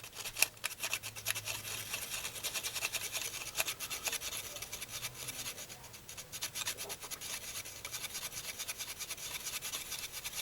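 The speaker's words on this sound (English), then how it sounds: "let's get in here with our 180 grit sanding stick" A 180 grit sanding stick scrubs over the body panel of a 1969 Camaro or 1971 Mustang, a close, continuous rasping with rapid back-and-forth strokes and no talking.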